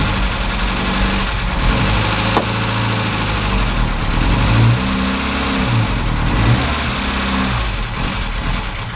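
A 1969 Ford Capri engine revs in second gear, a steady, loud mid-pitched drone with slight swells, running alone throughout.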